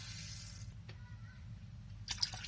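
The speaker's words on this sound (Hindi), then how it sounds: "इसमें खुला पानी डाल देना है।" Water is poured from a tap into a cooking pot of beef bones and garlic for nihari broth, a fairly quiet rush that stops, followed by a later burst of splashing.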